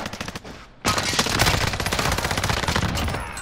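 Rapid automatic gunfire in a first-person shooter video game, a dense loud burst of repeated shots starting abruptly after a short pause and continuing steadily to the end.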